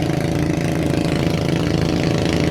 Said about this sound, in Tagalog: Medyo maingay po yung bangka dito sa amin.